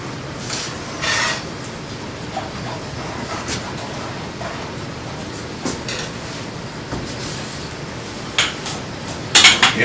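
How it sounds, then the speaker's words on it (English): A pan of capers shaken on the stove gives off a steady sizzling hiss, with occasional metallic clinks and rattles and a louder clatter of pan movement at the end. "I've got to add my capers to the pan. Give those a good shake."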